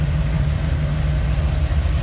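A 350 Chevy small block V8 with Hedman headers and a 4-barrel carb idles in a 1986 Chevrolet C10 Stepside street rod, a steady, loud, close low rumble, smooth and even throughout with no voices.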